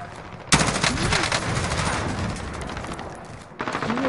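Sustained automatic gunfire in the Warzone video game fills most of the stretch as a dense, loud rattle that cuts out briefly and then starts again.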